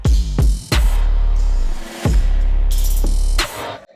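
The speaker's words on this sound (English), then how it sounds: "So let's try to just hear the drums in the 808s here," Hip-hop drums and deep sustained 808 bass from a studio music production, with sharp kicks and snares over long booming low bass notes in a loud, steady four-second loop, no voices.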